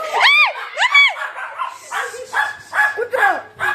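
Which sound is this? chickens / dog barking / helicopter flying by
dog barking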